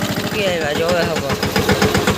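A tractor readied for sowing sesame seed runs close by, its engine knocking in a fast, even, loud rhythm throughout, with a voice speaking over the noise.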